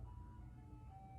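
Faint, distant ice cream truck chime, a thin sustained tune heard over a low engine rumble outdoors.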